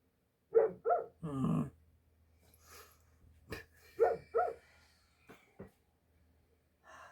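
A dog lets out a few sharp, husky barks and whiny yelps, close and in short bursts separated by quiet pauses.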